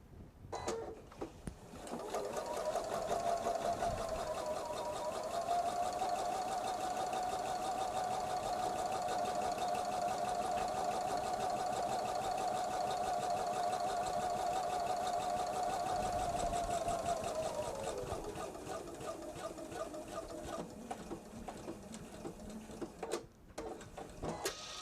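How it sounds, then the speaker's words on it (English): Sewing machine stitching in the ditch across a quilted bag made from jelly roll strips, a steady rapid mechanical hum and needle clatter sustained for about fifteen seconds, then slowing and stopping. "So now I'm going to do a stitch in the ditch here"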